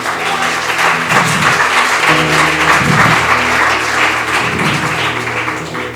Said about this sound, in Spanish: Aplauso al Padre.